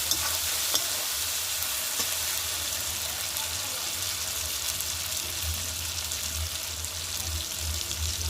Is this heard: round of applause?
no